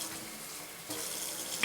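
Water pours steadily into a cooking pot holding meatball sauce, a continuous close splashing rush that swells slightly louder partway through, with no voices.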